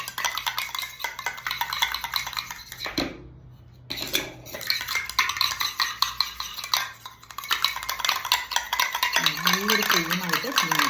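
A homemade under-eye cream pack is stirred and mixed in a small bowl, giving a steady run of close scraping and clinking from a spoon against the dish, with a brief quiet pause partway through and no talking.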